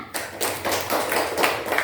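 A classroom of children clapping together in quick, uneven rhythmic bursts, close and fairly loud, lasting under two seconds.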